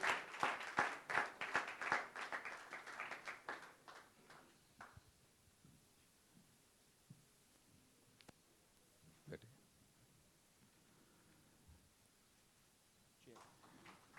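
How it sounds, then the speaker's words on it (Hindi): An audience applauds at a film first-look and song teaser launch event, dense loud clapping for about four seconds that quickly fades into a quiet room with scattered clicks and small movements. "जोरदार तालियां होनी चाहिए।"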